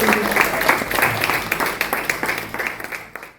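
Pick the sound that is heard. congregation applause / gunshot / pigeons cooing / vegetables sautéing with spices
congregation applause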